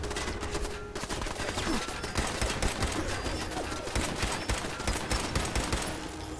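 Sustained turret gunfire in Fallout 4 combat, a dense, loud rattle of rapid shots running continuously with barely a break.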